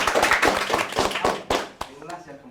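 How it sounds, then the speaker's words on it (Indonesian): A few people clap by hand in a small podcast studio, a quick rhythmic run of close, sharp claps that thins out and stops, followed by voices starting to talk. "Tepuk tangan."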